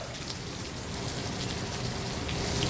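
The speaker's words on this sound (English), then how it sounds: "This is probably the steadiest rain that we've had, guys, to be honest with you, all morning long." Steady rain falls in Hilo, a dense, even hiss of drops on surfaces that holds constant and loud throughout without pause, and no one speaks.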